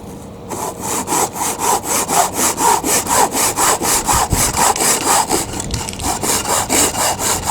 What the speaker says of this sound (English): Using the razor saw to cut the corner pieces, the 4 corner pieces